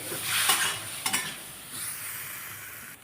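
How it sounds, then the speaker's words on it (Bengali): A spoon stirs drumstick and potato curry with ground cumin and mustard paste in a pan, producing soft, close sizzling with a couple of brief scraping bursts early on, then a quieter steady fry. "এভাবে আমি এবারে নাড়বো আরও দু থেকে তিন মিনিট"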